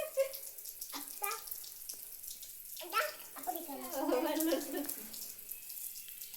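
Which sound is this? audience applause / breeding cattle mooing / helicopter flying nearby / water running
water running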